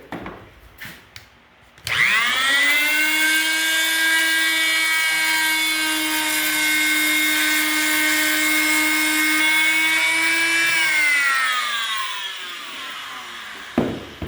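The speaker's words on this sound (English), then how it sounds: "It'll also cut not only with the grain, but it'll cut 90 degrees across the grain just as cleanly, like so." A veneer jointing system cuts wood across the grain with a loud, steady high-pitched motor whine. It spins up abruptly, holds for about ten seconds, then winds down, with a few clunks before and after.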